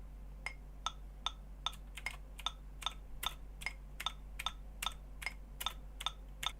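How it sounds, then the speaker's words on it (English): Metronome clicks tick sharply and evenly at 150 BPM, each click crisp and bright, with the faint clatter of typing on a keyboard underneath. "Or you can also try typing with a click. 150 BPM."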